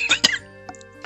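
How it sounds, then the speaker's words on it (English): Someone coughs twice in quick, loud bursts while playing an RPG parody game, followed by a short squeaky game sound and a faint vocal noise near the end. "I'm the one coughing"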